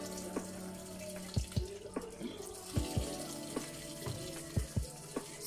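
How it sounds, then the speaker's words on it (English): Water runs from a tap into a semi-automatic twin tub washing machine, with a steady splashing stream and scattered louder drips and knocks close by, no talking. "the water comes through here, where you do your washing"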